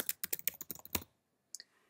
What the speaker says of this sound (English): now I'm going to go ahead and type something